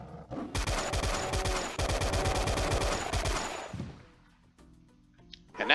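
A chain gun fires in the DOOM video game as a rapid, loud burst of repeated shots lasting about three seconds, then fades into quieter game ambience.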